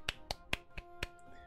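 Five crisp finger snaps or hand claps ring out one after another, evenly spaced about a quarter second apart, close and sharp with no voices around them.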